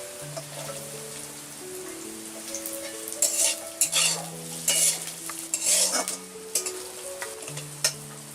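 Onion and garlic cloves sizzle and fry in a pan for a raw banana kofta curry, with steady crackling, a spoon stirring and clinking against the pan, and a soft melodic tone running underneath throughout.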